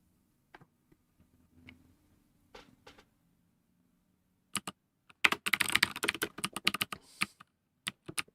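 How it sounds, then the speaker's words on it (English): Keys clack on a DOS computer keyboard, first a few isolated taps, then a quick burst of close, crisp typing with short pauses between clusters. "Yes, that is a DOS keyboard."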